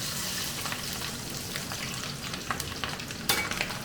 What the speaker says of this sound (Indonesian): Kita goreng ebinya.